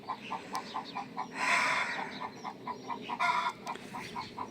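Hens clucking in a busy flock at a vegetable-garden coop, rhythmic repeated clucks with a louder burst of agitated squawking midway, close and clear with no talk.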